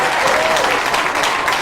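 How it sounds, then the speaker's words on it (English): A studio audience bursts into loud, dense applause for an arriving game show guest, a brief full-room burst of clapping. "Will you please welcome, with a big round of applause"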